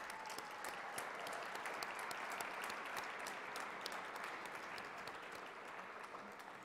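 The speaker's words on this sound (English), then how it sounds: "Let's get a round of applause." Steady audience applause at a Rare Disease Day 2017 event, many hands clapping in a dense, even patter that continues throughout, somewhat distant and soft.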